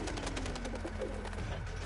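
Carrier pigeon cooing in the World War I shooter Battlefield 1, a soft repeated low coo running steadily under dense game noise, close and moderately loud.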